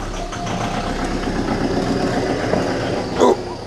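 Citroën Berlingo engine running at a steady idle after being started, a continuous low rumble throughout with a brief louder knock near the end, no talking.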